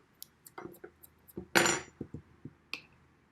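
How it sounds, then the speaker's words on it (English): A spoon clinks against a cup while gorgeous seeds are stirred into chai tea: a run of light, bright taps and scrapes, one louder rattling clatter in the middle, with no one talking. "Give it a bit of a stir."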